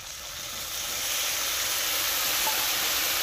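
A paste of cumin, chili and turmeric mixed in water poured onto frying tomatoes in oil, a loud steady hissing sizzle that swells over the first second and then holds, with no voices.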